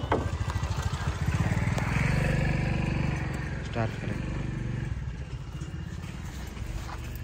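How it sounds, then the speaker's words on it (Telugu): A used Maruti Swift's engine runs with a steady, throbbing idle rumble close to the microphone, the revs briefly rising before settling, while a person talks over it. "సింగిల్ సెల్ఫ్లో అయితే బండి స్టార్ట్ అవుతుంది"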